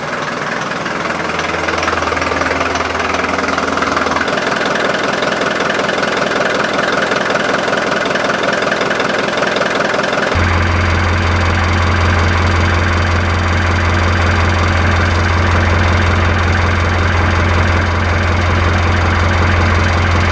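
A Mercedes-Benz 240TD diesel engine starts and settles into a loud, close, rattling idle with a steady knocking clatter and a deep drone that continues to the end.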